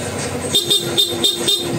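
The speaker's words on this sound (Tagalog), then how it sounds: "ayan yung stock horn nya" A stock Honda motorcycle horn beeps five times in quick succession, short bright toots over a steady engine idle.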